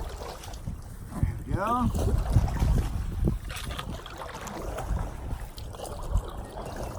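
A Jackson Bite kayak is paddled near a dock on open water: soft paddle splashes and water wash under gusty wind buffeting the microphone, with a short spoken remark partway through.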